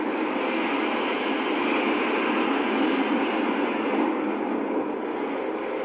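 A loud, steady hiss of rushing steam from a steam locomotive boiler blowdown roars continuously without pause, broad and unbroken throughout.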